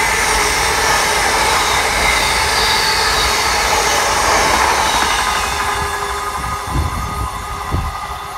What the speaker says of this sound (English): And it's the Thomas Moore train.